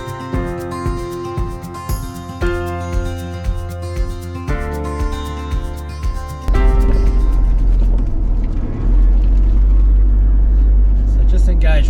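A four-wheel drive vehicle drives around Billiburning Rock in outback Western Australia, its loud, low engine rumble rising to a steady drone in the second half after an opening stretch of rhythmic, tonal sound.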